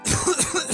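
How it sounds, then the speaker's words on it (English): A single short, rough cough burst close to the listener, with a throaty rasp trailing off. "You seem to be coughing a lot."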